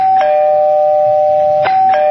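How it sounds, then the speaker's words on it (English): A doorbell rings during a Halloween night radio show, one long sustained chime followed by a second ring, clear and loud against a quiet room. "There's that doorbell again."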